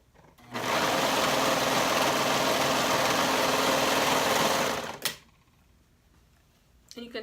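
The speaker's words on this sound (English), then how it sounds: "And you'll sew that up with a 1/2 inch seam allowance." A sewing machine stitching a side seam at a half-inch allowance, running in one steady, fast whirring burst of about four seconds, then stopping with a soft clack, followed by quiet.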